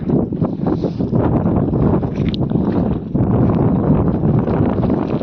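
Loud, constant wind buffeting the microphone with a low rumbling roar that barely lets up.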